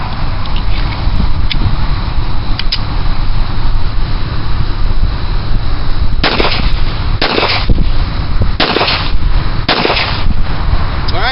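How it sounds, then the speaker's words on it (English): A Wilson Combat checkered stainless 1911 pistol fires about five sharp shots in quick succession over steady wind noise on an outdoor range. "Let's go and load them up and we'll shoot."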